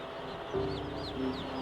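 Young chicks in a crowded poultry processing setting chirp in quick high rising peeps over a low mechanical hum, several calls close together.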